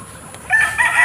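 A young gamefarm stag crows once in a short, loud, close burst that starts after a brief quiet moment.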